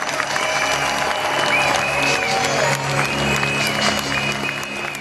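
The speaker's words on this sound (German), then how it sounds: "Bitte einen herzlichen Applaus für The Greatest" Crowd at a six-day cycling race in Bremen applauding cyclist Bruno Risi, a sustained roar of clapping filling the hall, with rolling mechanical whirring and music-like tones running underneath.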